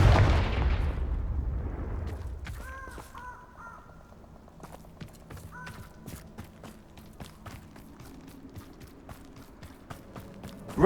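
A Confringo fire spell from Hogwarts Legacy bursts with a loud rumbling blast at the start that decays over a couple of seconds, followed by lighter crackles, taps and short tonal chimes.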